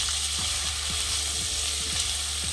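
Ridge gourd peels sauté on low heat in a pan, giving a steady, even sizzle with soft periodic scraping strokes of a spatula at a close distance, with no talk.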